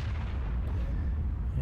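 A tank cannon shot in World of Tanks lands as a heavy, booming blast that rumbles loudly and fills the whole short moment.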